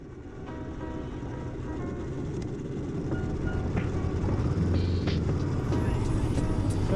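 Steady engine drone and road rumble from a Honda CB500X motorcycle on a test ride, building slightly in loudness throughout with continuous wind noise.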